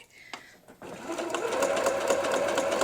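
A sewing machine stitches a seam on an Ohio Star quilt block, starting after a brief pause and running as a steady, close, continuous whir with a faint rhythmic chatter of the needle.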